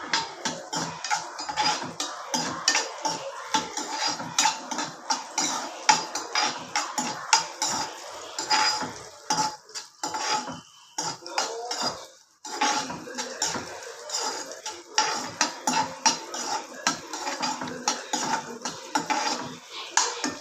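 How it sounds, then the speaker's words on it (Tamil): Sliced onions sautéed in a pan for a vegetable kurma, a spoon scraping and clanking against the metal vessel in a steady stirring rhythm, close and busy, with a short pause midway. "வெங்காயம் போட்டு நல்லா வதக்கணும்"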